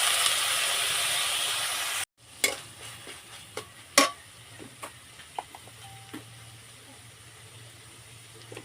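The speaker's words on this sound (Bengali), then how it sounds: "একটু জল দিয়ে দেবো, মশলা বাটার জল।" Water from ground spice paste hits a hot pan of ole (elephant foot yam) stalks in a vegetarian coconut dish: a loud hissing rush cuts off abruptly, followed by scattered stirring clatters and soft sizzling close by.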